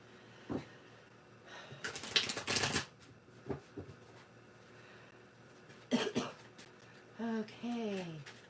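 Tarot cards are shuffled in two quick riffling bursts, with a cough and brief vocal sounds between them in a quiet room.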